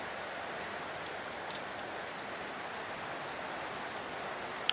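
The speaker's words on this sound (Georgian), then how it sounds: "ой, საკაიფო წვიმს." Steady rain falls outdoors in the morning, an even soft hiss of drops that never changes over the whole stretch, fairly quiet and with no voices.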